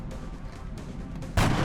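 Gunshot in XCOM: Enemy Unknown, a single loud broadband crack near the end over a steady game background, with no voices.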